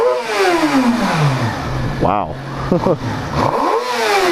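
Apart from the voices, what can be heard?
Suzuki GSX-R 600 motorcycle engine revving, stock exhaust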